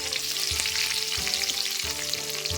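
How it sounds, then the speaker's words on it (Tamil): Dried red chillies, green chillies, ginger and peanuts frying in hot oil, a steady loud sizzle with a few stirring scrapes at regular intervals and no talk, as tempering for coconut rice. "எல்லாத்தையும் நல்லா ஃப்ரை பண்ணிக்கோங்க."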